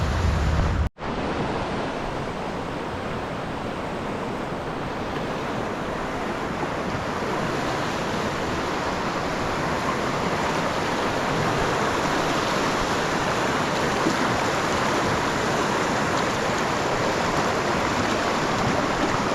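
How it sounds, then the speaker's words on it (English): River water rushes loudly and steadily through a gorge, a dense unbroken roar with no voices, interrupted only by a sharp knock near the start. "there's a little more water coming through this gorge than what I usually like to deal with"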